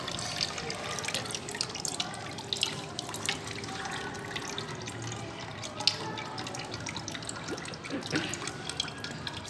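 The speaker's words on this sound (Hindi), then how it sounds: "और पानी को पूरा ड्रेन होने देना है।" Water trickling and dripping steadily through a handmade paper mould screen, a soft continuous patter with small splashes, close and fairly quiet.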